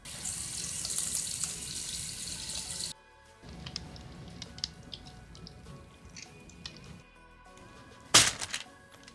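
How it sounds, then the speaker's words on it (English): LEGO pieces from a Minecraft Dungeon set being washed in water, with a steady splashing, running-water wash that stops abruptly, followed by quieter drips and small clicks and a sharp sudden splash near the end. "I just put it in water"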